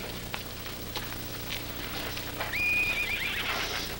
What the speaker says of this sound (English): Got a new horse here.